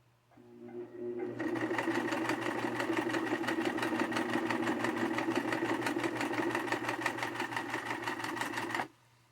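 A Brother VX-1100 sewing machine runs a zigzag stitch with a steady, fast mechanical whir and rapid needle clatter, starting up after a brief hum and stopping abruptly near the end, loud and close.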